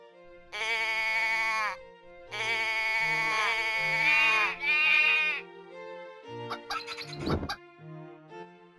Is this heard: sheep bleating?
yes